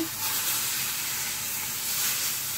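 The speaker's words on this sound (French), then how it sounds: "je vais mettre un peu d'huile et je vais mettre le morceau et le dorer sur chaque côté" A beef joint sears in a hot oiled pan, a steady close hiss of frying with a soft broadband sizzle, continuous and alone.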